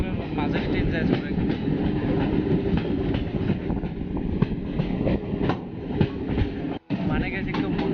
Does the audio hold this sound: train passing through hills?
yes